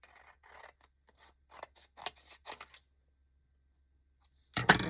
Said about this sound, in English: I'm going to need to go ahead and cut this